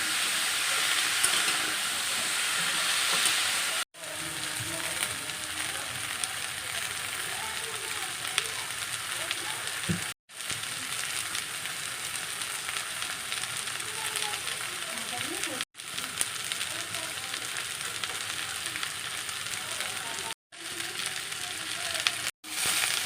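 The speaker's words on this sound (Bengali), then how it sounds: "সবজি আর ডাটাটা একটু ভাজা ভাজা হয়ে যাক" Vegetables and Malabar spinach stalks fry in a pan with a continuous, fairly loud crackling sizzle. Several sudden brief cuts break the sound into stretches.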